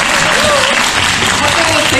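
A lecture audience applauds a professor after a talk on colourful plant-nutrient recipes, a dense, steady wash of clapping with no gaps, loud and close, with a voice faintly threading underneath.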